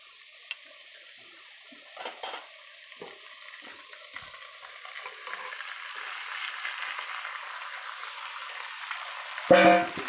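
Chicken and potatoes fry in a pan and are stirred, giving a quiet, steady sizzle with scattered scrapes and light clinks, plus a short louder clatter near the end.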